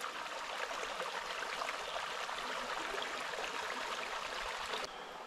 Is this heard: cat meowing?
no